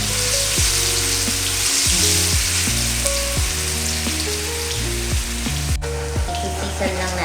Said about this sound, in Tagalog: So, ipa-fry lang natin hanggang sa mag-golden brown.